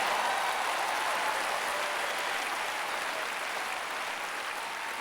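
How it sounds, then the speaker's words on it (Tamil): An audience applauds the women at a large Christian teaching event, steady dense clapping filling the hall throughout and easing slightly toward the end. "அவங்களுக்காக கைத்தட்டுங்க."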